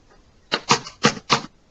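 Four sharp keystrokes on a computer keyboard come quickly one after another, clear and close, with no talking.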